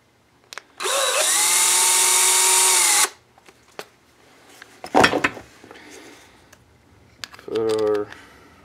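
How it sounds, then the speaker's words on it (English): A power drill fitted with a drill bit runs steadily for about two seconds, close and loud, followed by scattered clatter and handling noise and a brief second whir near the end. "See if I only had the right size drill bit."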